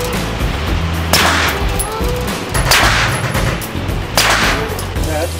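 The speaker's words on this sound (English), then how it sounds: "up next we got the FN 509 suppressed 9mm" FN 509 suppressed 9mm pistol firing outdoors, three loud muffled cracks spaced about a second apart over steady wind and background noise.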